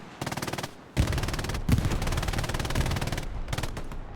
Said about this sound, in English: You know, sometimes you just gotta shoot the machine. Doesn't matter if you hit something. It just makes a good sound.